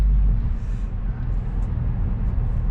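A 4th-generation Mazda3 fitted with a CorkSport axleback exhaust runs as a steady, deep low rumble with a smooth, even drone. The sound is loud and continuous, and no one speaks over it.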